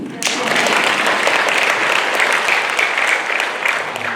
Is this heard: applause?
yes